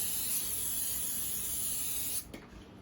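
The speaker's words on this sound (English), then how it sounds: "take a baking dish or baking pan, spray it" A continuous hiss of an aerosol cooking spray on a baking pan lasting about two seconds, then it stops abruptly, followed by a faint clatter.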